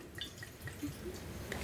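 A small splash of cider vinegar poured into a blender holding chilies and mustard seed gives faint, brief liquid drips and trickles against a quiet background.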